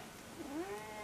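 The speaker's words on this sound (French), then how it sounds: "Vous la touchez du bout du doigt, elle miaule." A female house cat gives one short, soft, rising meow, fairly faint and close against a hissy background, with no talk over it.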